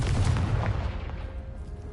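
Confringo and Bombarda spell explosions in the video game Hogwarts Legacy, a heavy low boom rumbling and fading away over about two seconds, loud and close.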